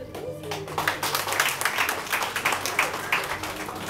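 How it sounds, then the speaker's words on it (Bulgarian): Scattered applause in a church gathering, a modest group clapping with distinct individual claps building into a loose, uneven patter at moderate distance. "Аплодисменти."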